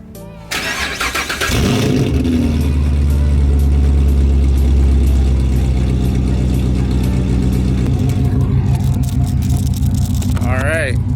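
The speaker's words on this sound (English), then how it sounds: "So I'm gonna go and put you guys down for a cold start" A Chevrolet Corvette C7 engine cold-starts with a sudden crank and a loud flare of revs, then settles into a strong, rumbling high idle, with people talking nearby.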